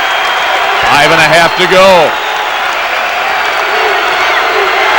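Basketball arena crowd at a Bradley Braves NIT home game roaring and cheering on its feet, a steady loud din with a commentator talking over it.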